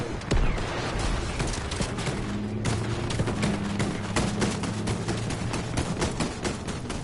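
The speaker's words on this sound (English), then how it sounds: "who is that shooting?" Dense, continuous gunfire from a Fortnite match, with rapid overlapping shots and bursts filling the whole stretch at a steady loud level, mixed with in-game noise.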